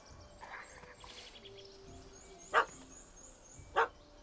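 A puppy in The Witcher 3 gives two sharp, separated barks over quiet outdoor ambience with faint birdsong.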